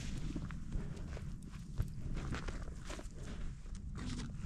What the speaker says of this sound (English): I'm hearing footsteps next to me because there's an animal in here.